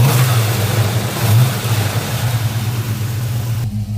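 A Chevrolet El Camino with a 355 engine and new exhaust runs close by, a mellow, steady throaty rumble with a slight rev early on before settling toward idle.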